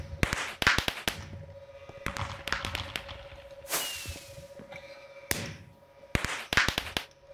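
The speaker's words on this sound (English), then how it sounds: "Fireworks." Fireworks go off in the video game Minecraft as a rapid series of sharp cracks and pops in several bursts, with a brief rising whoosh partway through.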